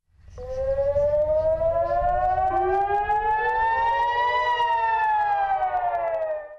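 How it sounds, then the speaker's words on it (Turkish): A civil defense siren wails in Israel, a single long, loud tone climbing steadily in pitch and then sliding slightly down, heard alone without voices. "Sirenler çaldı."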